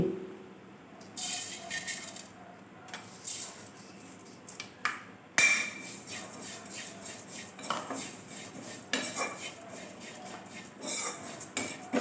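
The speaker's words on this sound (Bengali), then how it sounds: "ওটসটা আমি ভেজে নেব একটু" Oats dry-roasting in a kadai over low heat, stirred with a metal utensil: repeated scraping and clinking of spoon against pan in irregular bursts, close and fairly clear, with no talk.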